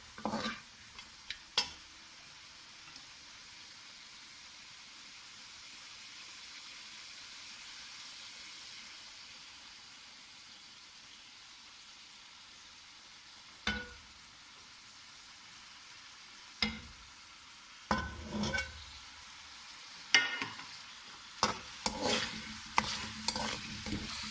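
Steady quiet sizzling of goat meat frying in oil, with occasional sharp clinks and scrapes of a utensil stirring the pan toward the end.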